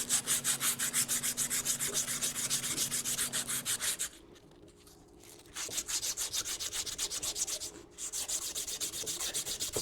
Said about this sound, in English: you guys don't need to watch me sand